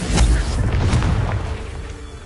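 Confringo blasting spell exploding in the video game Hogwarts Legacy: a deep, rumbling boom that hits hard at the start and then decays over about two seconds.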